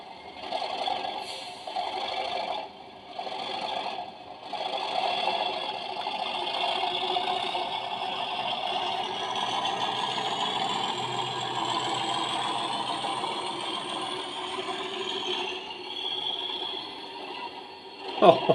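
An Accurascale Class 37 model diesel locomotive's onboard sound unit plays a steady engine drone with a faint mechanical clatter, rising in pitch as throttle is applied, heard continuously and fairly close with no talking.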